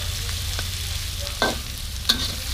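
Ham stir-fries with holy basil in a pan, a soft continuous sizzle broken by a few sharp spatula scrapes and clacks, close and without talk.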